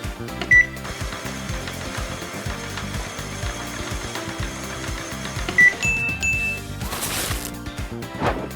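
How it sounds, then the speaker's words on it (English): LEGO wood sawmill machine running steadily with rapid ratcheting clicks and whirring gears, a couple of sharp beeps and a brief louder grinding burst near the end. "Wood sawmill machine."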